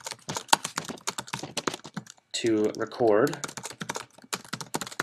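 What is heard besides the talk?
typing on a computer keyboard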